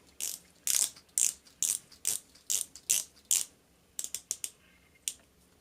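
Rotating bezel on an Invicta dive watch with a Seiko movement clicking through its ratchet, a close run of crisp, evenly paced clicks in bursts followed by a few quicker, scattered clicks.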